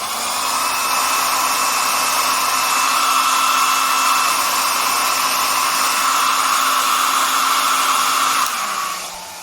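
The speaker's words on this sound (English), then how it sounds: "So this makes less noise when it's cold." A Philips Essential Care BHC010 1200W hair dryer blows with a steady, loud whooshing hum and a faint high whine, running continuously before cutting off near the end.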